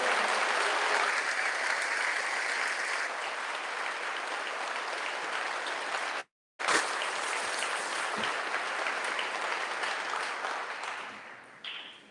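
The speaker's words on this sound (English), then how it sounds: "let's give them all a round of applause." An audience at a high school graduation ceremony applauds the teachers with sustained, dense clapping. There is a brief gap partway through, then the clapping resumes and gradually fades at the end.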